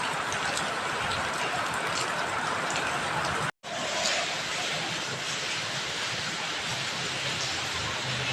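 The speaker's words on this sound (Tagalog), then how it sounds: "Wala nang tigil ang ulan mga idol." Heavy, unrelenting rain pours down in a steady broadband wash, loud and close, with a brief dropout partway through before the downpour resumes.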